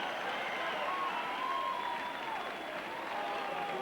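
Leeds rugby league supporters in a 1996 cup match against Swinton cheer and applaud after a try, a steady, loud crowd roar with clapping filling the whole stretch, some whistles rising above it.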